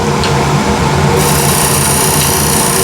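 An M2 cryogenic steel card scraper drawn steadily across timber, producing a continuous dense rasping hiss with no pauses, close and loud throughout with no talking.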